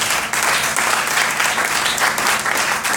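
A church congregation applauding loudly and enthusiastically, with dense, sustained clapping that holds steady throughout and no voice standing out.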